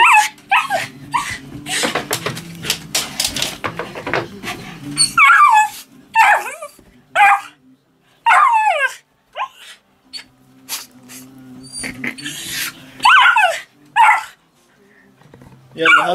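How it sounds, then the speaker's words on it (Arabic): A dog barks and yips in sharp, close bursts, with whimpering cries and a sneeze between them, some barks loud and clipped, while a person talks softly in the opening seconds and during pauses. "مثل ما شايفينه اهضم كلب"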